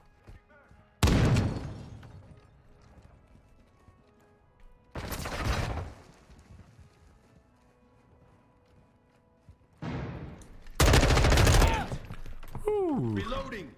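Three loud bursts of rapid automatic gunfire from the Call of Duty Modern Warfare 2 beta, separated by quieter stretches, with game music and effects underneath and a player talking.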